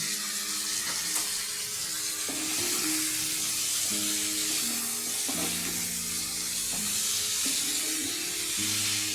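Boiled chana dal sautés with mutton in a pan, giving a continuous, even sizzle and occasional stirring scrapes. Background music plays throughout.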